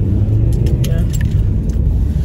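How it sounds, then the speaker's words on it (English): Lorries and other traffic pass on a road in a steady, close, loud low rumble of engines and tyres that runs unbroken throughout. "We got some lorries and stuff."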